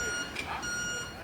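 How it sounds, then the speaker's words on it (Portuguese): Reversing beeps from a fuel tanker truck arriving with fuel, a steady electronic tone sounding at moderate distance, with a voice speaking over it. "um som se fez ecoar. Era um caminhão cisterna a trazer combustível para o alívio dos automobilistas."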